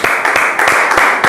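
A short burst of audience applause at a talk-show style event, with dense, loud clapping that swells rhythmically in quick waves.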